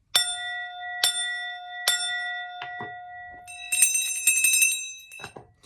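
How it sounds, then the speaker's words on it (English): Small bells ring out a short cycle: three clear, evenly spaced dings with long decays, then softer taps and a quick rattling trill of higher tones, close and otherwise quiet. "I've been trying to come up with a little cycle with those bells"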